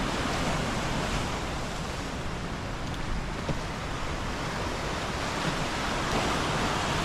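Calm sea surf rolls steadily onto a clean lighthouse shore on a windless day, a continuous broad wash of breaking waves, close and even, with no voices.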